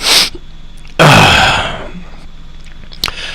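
A sharp, loud sneeze bursts out close by after a brief intake of breath, followed by a fading exhale and a small sniff.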